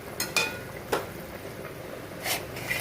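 Fried vegetables being stirred into a cooking pot for Bengali shukto: a few light metallic clinks and scrapes of a spoon against the pot, spaced irregularly over a low background hiss.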